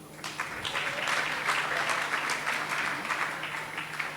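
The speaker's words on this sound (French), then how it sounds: "C'est bon de les applaudir, s'il vous plaît." Sustained applause from an audience, steady clapping throughout without a break, moderately loud and filling the room.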